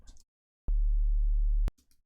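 A single sustained low sine wave bass note from the Serum synth plays alone for about a second, clean and steady with a slight extra grit, starting and stopping abruptly between quiet gaps.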